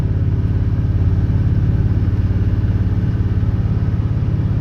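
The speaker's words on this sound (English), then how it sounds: "You'll have to never mind this old wore out Duramax." Old, worn-out Duramax diesel pickup with 350,000 miles and a busted windshield, driving up steep, narrow logging roads; a steady, loud, close diesel rumble with a throbbing rhythm that continues throughout, with no talking.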